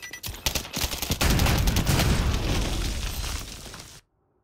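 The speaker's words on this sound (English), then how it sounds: "Nice explosions." Video game combat with a dense burst of explosions and rapid gunfire, loud and continuous for about four seconds before cutting off to silence.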